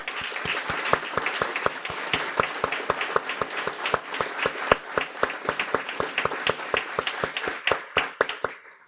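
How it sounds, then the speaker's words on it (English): Audience applause at a guide dog school graduation, a crowd clapping with a strong, regular rhythm of distinct claps that stays steady for several seconds, then thins and fades out at the end. "please stand up for a round of applause."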